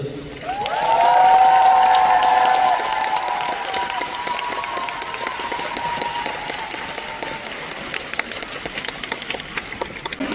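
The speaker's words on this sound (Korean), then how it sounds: "지휘자 리처드 대 부체품원 준이를 큰 박수로 맞이하여 주십시오" An audience claps in welcome for the conductor of a combined Korea–US military band at a navy patriots concert, a dense burst of applause swelling early then settling into steady clapping under a sustained tone from the hall.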